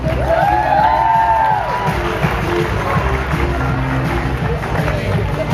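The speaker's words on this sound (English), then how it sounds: "Give both teams a big round of applause." Audience applause and cheering for both teams at a brawl competition event, loud continuous clapping with whoops and shouts near the start, holding steady as a crowd wash while people talk.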